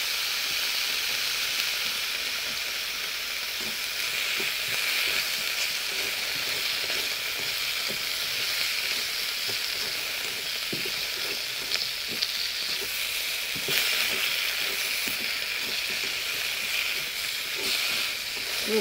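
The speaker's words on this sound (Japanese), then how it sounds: "かまぼことアスパラの塩炒め、今日は。" Kamaboko fish cake and asparagus fry in a pan for a salt stir-fry, giving a steady, close sizzle with occasional soft clicks of stirring and no talking.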